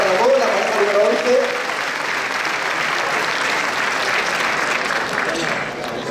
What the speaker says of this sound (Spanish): Venga, aplauso para Margarita y para Ramón